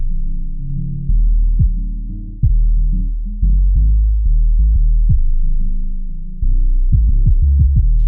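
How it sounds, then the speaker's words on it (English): A downloaded MP3 music beat with soft distortion added in Logic Pro X plays loud and bass-heavy, with thumping low kicks and a steady throbbing rhythm throughout and no talking. "I'm just going to add a bit of soft distortion as well."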